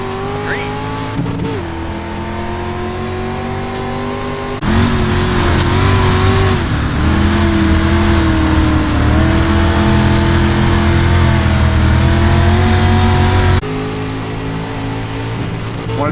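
Dirt stock cars in iRacing, including UMP modified cars, race after the green flag with several engines droning and revving loudly and continuously, pitch rising and falling as they accelerate together on a dirt oval.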